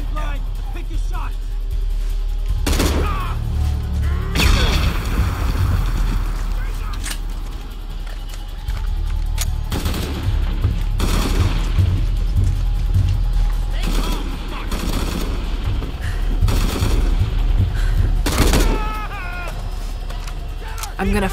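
Gunfire in Shadow of the Tomb Raider, set in a church in Peru: a string of sharp, loud shots and short bursts spaced through the stretch, layered over a steady low game ambience with voices talking in between.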